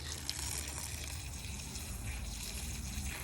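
Filthy water trickling and dribbling steadily after steam cleaning the interior of a Ford Falcon EB, a continuous close liquid flow with no talking.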